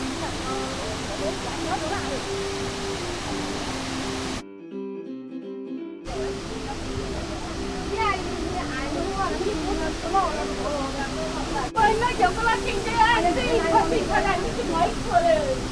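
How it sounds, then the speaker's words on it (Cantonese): Huangguoshu Waterfall heard from a nearby walkway, a steady hissing roar running underneath, with people talking over it and a brief dropout partway through. "越嚟越近瀑布啦！"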